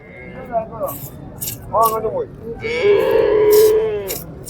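Cows on a farm moo several times nearby, two short lowing calls followed by a long drawn-out moo, with people talking over and between them.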